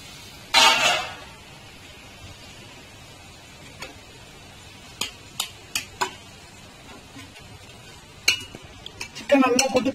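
Stirring chicken into masala in a pressure cooker: a soft sizzle underneath, with scattered sharp spoon scrapes and clinks against the metal pot, plus a burst of rattling at the start and end.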